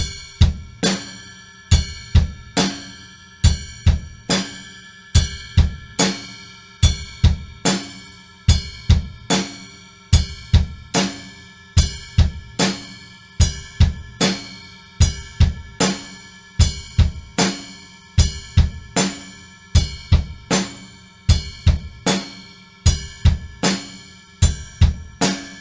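Drumset groove with quarter notes struck on the ride cymbal bell over kick and snare, a steady, even pattern of bright pings and drum hits played alone at a moderate tempo for about 25 seconds.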